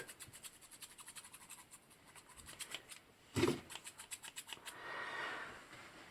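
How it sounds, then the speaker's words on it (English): Quiet close-up clicking and rubbing of scissors being handled, with a series of light metallic snips and a brief louder scrape midway. "I also have my scissors"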